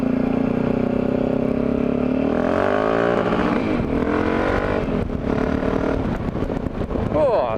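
Yamaha XT660Z Tenere single-cylinder motorcycle engine on a test ride, a steady close thrum with revs rising and shifting through gears, and wind noise building underneath.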